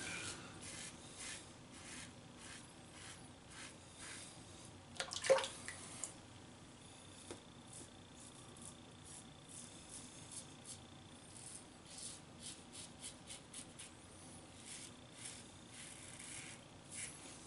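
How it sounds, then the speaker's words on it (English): A shaving brush works Gillette Pure shaving cream into a lather with quiet, repeated swishing and rubbing strokes, faint and close, with one brief louder scrub partway through. "really nice lather, okay, doesn't take a lot of water, it's easy to lather."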